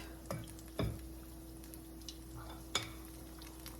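Carrot and potato fritters dropped into oil over medium-high heat, a faint steady sizzle with a couple of sharper knocks and splashes, quiet and without speech.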